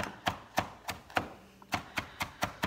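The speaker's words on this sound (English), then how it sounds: "So I'm just literally going in, chopping this up super, super fine" A knife chops food very finely on a cutting board in a home kitchen, with about ten crisp, evenly spaced taps close up and no talking.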